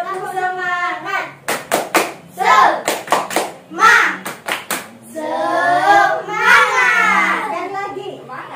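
Children in a sixth-grade classroom chant the Tepuk Semangat clapping song, sung voices alternating with bursts of sharp rhythmic hand claps in quick groups, close and loud.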